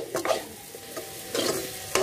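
Mixed vegetables are tossed and fried in a pan, with a soft continuous sizzle and a few quick scraping and tossing bursts, close and moderately quiet.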